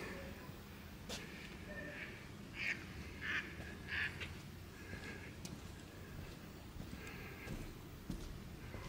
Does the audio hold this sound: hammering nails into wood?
no